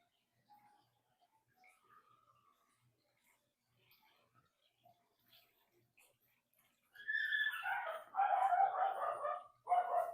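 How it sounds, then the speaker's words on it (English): A small miniature Labradoodle next door barks in a burst of sharp yaps late in the clip, moderately close, after a mostly quiet stretch with faint scattered sounds. "He's a cute little dog. Like a miniature Labradoodle or something like that."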